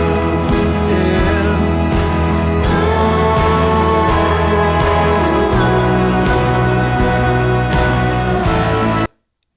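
A mastered mix of a recorded song with vocals plays loud and full throughout, a dense band arrangement with steady rhythmic hits, ending abruptly in silence.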